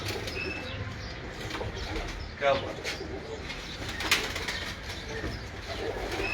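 Pigeons coo and shuffle nearby, with a burst of wing flapping and brief chirps, while someone speaks a few words over steady outdoor background noise.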